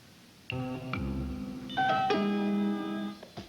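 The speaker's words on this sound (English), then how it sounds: "What took you so long to answer the phone?" A telephone on a 1980s television soap opera set rings in clear electronic tones, one burst followed by a second, louder and longer burst, heard alone without any talking.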